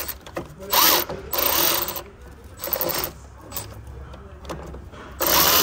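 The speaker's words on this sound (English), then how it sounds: "Now we should be able to get our socket on it." A socket ratchet wrench clicks in short bursts while working on a Ford E-350 with the 7.3 engine, close and crisp, with quiet pauses between the strokes.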